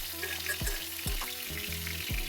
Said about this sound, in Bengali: আলুগুলো বেশ ভালো ভাজা হয়ে গেছে, তাই আমি এখন কিন্তু এখানে পেঁয়াজ আর কাঁচা লঙ্কাটা দিয়ে দিলাম